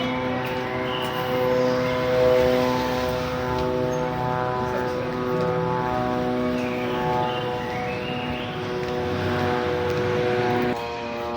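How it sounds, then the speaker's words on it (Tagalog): Drone flying close overhead, a steady loud buzzing whine with layered tones that swells and eases slightly as it hovers and moves, continuous throughout. "Kinig na lang tayo sa drone."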